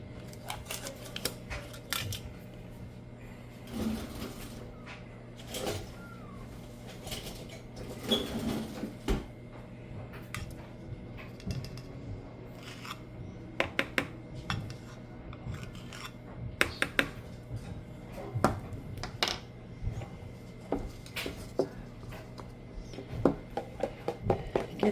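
Almond flour waffle batter with baking powder being mixed in a bowl, a steady run of scraping, rubbing and clinking strokes with occasional sharper knocks, close and moderately loud, with no talking.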